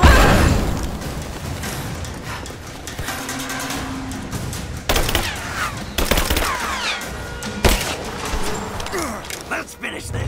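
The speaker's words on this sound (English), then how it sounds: "Under fire! Grenade out! Fire in the hole!" Gunfire and a grenade blast in the Rise of the Tomb Raider video game: loud, dense bursts of shots with sharp impacts and booming hits across the clip, mixed with a busy battle din and some game voices.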